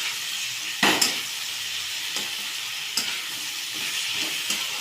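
Rohu fish head frying in a pan while being stirred: a steady sizzle runs throughout, broken by several sharp scraping stirs at uneven intervals, close and moderately loud with no talking.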